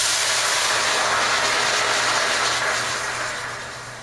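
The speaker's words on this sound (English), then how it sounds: "So I'm going to start off with a hot pan and 2 cups of vegetable broth" Organic vegetable broth hisses steadily in a hot pan, a close, even sizzle that holds and then slowly fades toward the end.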